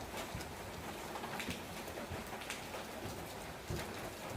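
Steady rain pouring down, a dense even hiss of drops on surfaces with occasional nearby splashes, no voices.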